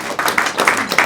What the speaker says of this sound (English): Clap if you're married.